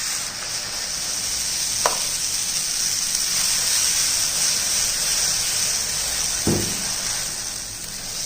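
Garlic dosa batter hissing on a hot oiled griddle, a steady broadband sizzle throughout with two brief louder bursts as batter meets the pan, close and continuous, no voices.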